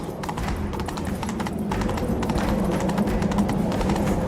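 A horse gallops in the Witcher 3 video game, its hooves drumming in a fast, continuous clip-clop rhythm over a dense, loud rumble of game ambience.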